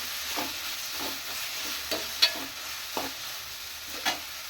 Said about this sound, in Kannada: ಇದು 3ರಿಂದ 4 ನಿಮಿಷ ಫ್ರೈ ಮಾಡ್ಕೊಳ್ಳೋಣ.